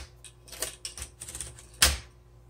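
The handle of a 1960s Coronet Automatic typewriter is turned to feed paper, giving a series of light mechanical clicks and rattles that end in one sharp, loud clack, close by and alone.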